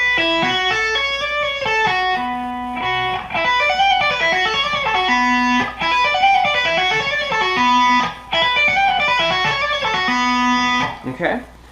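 Electric guitar right-hand tapping, an open string struck then hammered notes across strings, producing fast repeating cascading note patterns, loud and close, played alone without talking.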